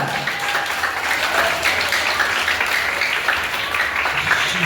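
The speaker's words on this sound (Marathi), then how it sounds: "तिचा वाढदिवस साजरा करण्यासाठी जोरदार टाळ्या मारून ते करा" A crowd at a school birthday celebration at Vikas Mandir school in Nashik Road claps together in a loud, sustained round of applause with no pause.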